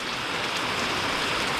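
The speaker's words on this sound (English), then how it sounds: "I'm gonna sit here and watch it rain for a little bit" Steady rain falls outside a garage, a dense, even hiss of drops on the surfaces, fairly close and continuous with no voices.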